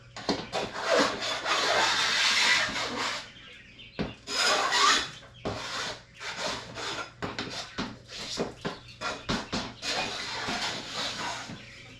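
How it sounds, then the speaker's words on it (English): A small drywall mud scraper scrapes leftovers from quail cage trays indoors in repeated rough rasping strokes with brief pauses, while quail cluck faintly in the background. "Anything that's left over, I just take a little drywall mud scraper,"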